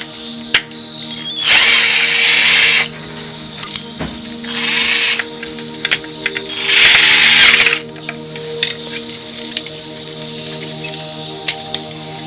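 Two bursts of an electric drill whirring, each about a second long, with small clicks and knocks between them over a steady background hum.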